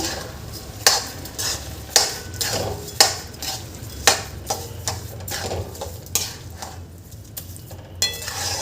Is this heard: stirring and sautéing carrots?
yes